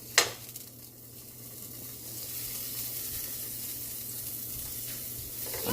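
Butter sizzling in a hot pot for a Cambodian butter pot, a brief clatter as it drops in, then a steady soft hiss and crackle of frying, close and fairly quiet with no talking.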